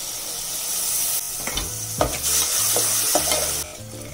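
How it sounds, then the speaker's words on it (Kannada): Masala mixed with curd fries in a pan under a continuous loud sizzle, with a series of spoon strokes scraping and knocking against the pan in uneven rhythm. "ಲೋ ಫ್ಲೇಮಲ್ಲೇ ಒಂದು 2 ನಿಮಿಷ ಬೇಯಿಸ್ಕೋಬೇಕು ಮಸಾಲೆನ."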